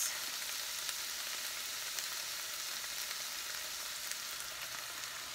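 Soy sauce and teriyaki hitting a hot frying pan in an egg roll in a bowl dish, giving a loud, steady, hissing sizzle that holds evenly throughout with faint crackles and no voices.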